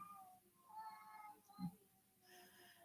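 Two cats named Silky and Spunky facing off indoors, a short low yowl or meow rising briefly amid quiet background hum and faint tonal noise, fairly soft and distant.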